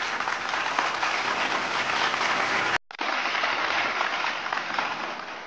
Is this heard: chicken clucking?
no